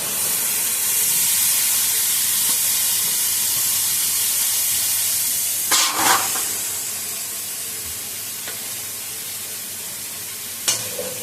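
Cabbage hits hot fish oil in a pan and sizzles loudly, a steady hissing fry that gradually softens, broken by a couple of brief scraping stirs.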